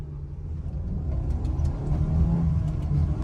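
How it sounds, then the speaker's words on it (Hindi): A Honda City car accelerating hard during a pickup speed test, with a steady low engine rumble that builds slightly in loudness over a few seconds, heard from inside or close by. "इसका पिकअप देख लेते हैं कि इस गाड़ी में पिकअप कितना तगड़ा है।"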